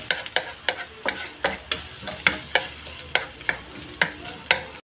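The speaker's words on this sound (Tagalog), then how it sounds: "inuuna natin ginigisa ang ating luya kasi mabilis lang masunog yung ating bawang" Ginger sautéing in hot oil in a pan for laing, with a steady sizzle broken by regular sharp scraping stirs about twice a second, close and clear, cutting off abruptly at the end.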